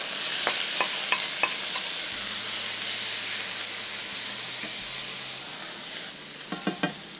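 Butter and a little olive oil sizzle on the hot plate of a portable PK Go charcoal barbecue, a steady close frying hiss with a few scattered ticks and small clinks near the end.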